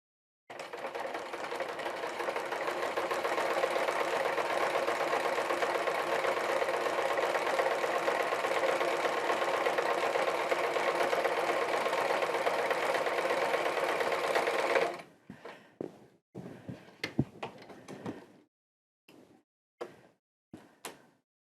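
A sewing machine stitches the full length of a leather chaps tongue piece, running loud and steady and close for about fifteen seconds, then stopping and giving a few short bursts and clicks.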